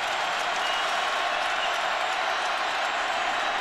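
A football stadium crowd at the 2010 Oklahoma-Nebraska game roars steadily, a dense wash of cheering and applause that holds loud and unbroken throughout without any clear voice rising above it.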